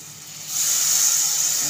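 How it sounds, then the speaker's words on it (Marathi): Water sprinkled into a hot pan of frying turmeric and red chilli for egg bhurji bursts into a loud steady hiss of steam that rises suddenly and holds, with no talk. "थोडंसं पाणी शिंपडते"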